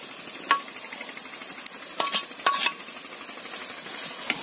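Scarlet gourd (kovakkai) fry with grated coconut stirred in a pan, a low sizzle under a few sharp spatula scrapes and clinks against the metal, close up with no voices.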